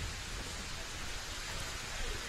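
Steady rain falls on an outdoor lawn bowls green during a state championship match, a dense, even hiss that stays constant throughout with no talk heard.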